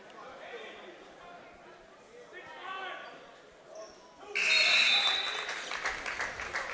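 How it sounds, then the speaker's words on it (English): Fans at a boys varsity high school basketball quarterfinal between Colonia and Woodbridge break into applause after a free throw, rising suddenly and loud over earlier gym chatter and an announcer's voice. "Dirk Cack gets a well-deserved applause from the fans here at Colonia."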